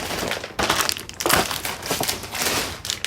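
Paper being crumpled and handled while sorting donated craft supplies, a loud, close crinkling and crushing in several bursts with short pauses between them.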